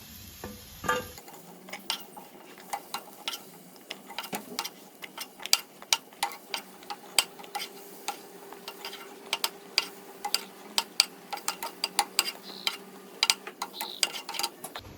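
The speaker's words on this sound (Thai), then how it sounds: "เดี๋ยวเราขอตักพริก กระเทียมแล้วก็หอมแดงออกก่อนนะคะ" Roasted chilies, garlic and shallots scooped out of a pan, repeated light scraping and tapping clicks in an irregular rhythm, close and fairly quiet over a faint low hum.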